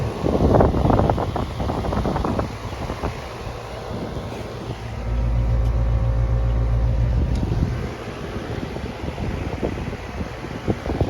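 A furnace runs after its blower motor was replaced, giving a steady low mechanical hum with a broadband whoosh that swells louder midway through, close and continuous with no talking.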